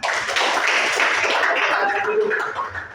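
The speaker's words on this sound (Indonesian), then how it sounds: "Oke, tepuk tangan." Group of students clapping hands together in a classroom, a dense steady patter of applause lasting about three seconds before tapering slightly, with some voices mixed in.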